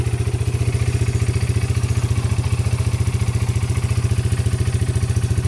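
A Yamaha Breeze 125 or Kawasaki Brute Force 650 engine runs in a steady, close, low thrumming chug with rapid even pulses and no clear swell in pitch, alone without any voices.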